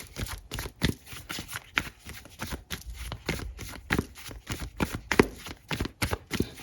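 Tarot cards are shuffled in a quick, crisp riffling rhythm, with soft repeated flicks and slaps close to the microphone and no voice over them.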